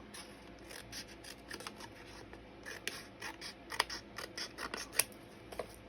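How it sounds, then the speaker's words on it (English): Scissors snip through paper being trimmed for a garden journal, a run of crisp close cuts with sharper snaps near the end, and no one speaking. "let's just line it up with the page and try to cut it straight if we can"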